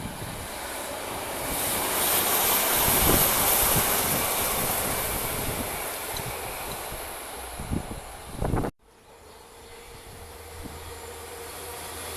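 A passenger train, the 1804 service to Lancaster, rumbles past with a broad, steady roar that drops off abruptly near the end, leaving quieter background noise.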